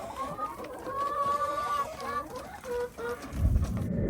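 Chickens cluck and murmur together up close at feed time, several birds calling in overlapping bursts, with a rustling thump at the end.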